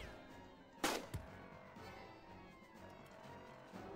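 A single sharp gunshot cracks in the video game Jagged Alliance 2, followed by a smaller thud and low rumbling game ambience, with no talk.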